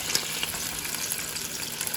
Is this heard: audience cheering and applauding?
no